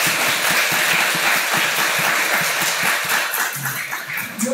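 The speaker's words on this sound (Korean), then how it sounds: "한번 우리 박수로 축하해 주시면 고맙겠습니다." A church congregation claps steadily and loudly throughout, celebrating the installation of deaconesses at a Korean Easter and church founding Sunday service, with dense sustained applause that never fades.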